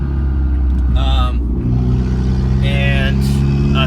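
Mazdaspeed 3 engine pulling slowly in second gear at low throttle, a steady loud cabin drone with a low rumble throughout and a voice speaking briefly over it.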